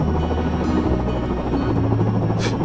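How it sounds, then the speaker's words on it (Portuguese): A helicopter arrives carrying a donor heart, its rotor and engine making a dense, continuous roar that holds steady and fairly loud throughout, with no voices heard. "eu escutei o barulho do helicóptero chegando com o órgão"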